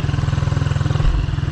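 A motorcycle engine held at a slight rev while turning during low-speed practice, a close, loud, pulsing putter at a steady rhythm that dips briefly near the end, with no talking.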